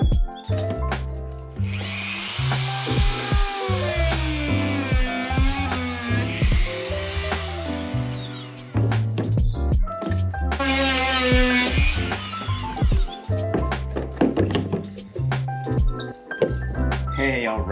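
A Dremel rotary tool bores holes in PVC pipe for a kayak rod holder, giving high whining bursts that rise and fall over several seconds each, loud and close, broken by clicks and handling knocks.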